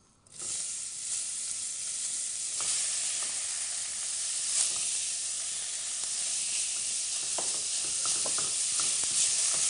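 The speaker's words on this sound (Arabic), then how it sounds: "اللحم عندي هلا اصبح ناشف وبنسمع برضه صوته هيك محمص تحميص" Coarse ground meat for kibbeh frying in a pan over high heat, a steady, close, continuous sizzle and hiss with faint stirring scrapes and no talk.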